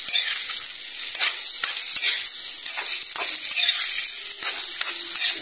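Garlic and onion sauté in a hot pan for a pechay and tofu dish, giving a loud, steady sizzle with crackling spatter and occasional stirring scrapes throughout.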